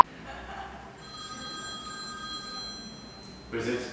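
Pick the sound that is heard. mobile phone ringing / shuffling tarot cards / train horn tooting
mobile phone ringing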